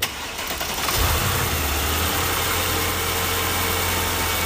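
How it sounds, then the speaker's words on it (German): A car engine cranks and catches about a second in, then settles into a steady, even idle that continues to the end, with no talking. "Start mal den Motor."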